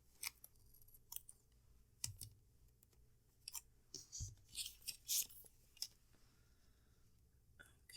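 Scissors snip through a planner sticker, giving a series of soft, close, crisp clicks and cuts at an irregular pace in an otherwise quiet room.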